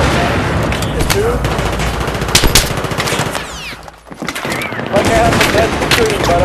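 Dense gunfire and explosions in Battlefield 3 multiplayer, loud and continuous with sharp bursts, one brief lull before the shooting resumes, players' voices mixed in.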